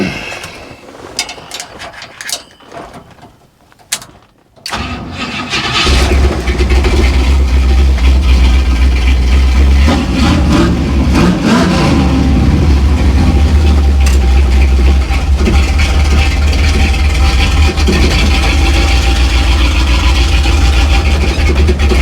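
A 1955 Buick Super's engine runs loud and close, a steady low rumbling drone with mechanical ticking and rattles. It follows several seconds of scattered clunks and handling noises, then holds constant to the end.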